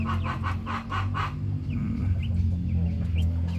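Brahma chickens cluck close by in a quick run of repeated notes, then give a few softer, scattered calls over a low, steady background hum.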